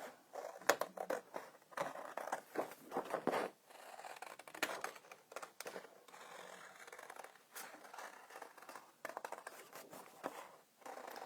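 Scissors snipping through paper for scrapbooking, close up, in a long run of quick irregular cuts with short pauses and rustling of the paper between them.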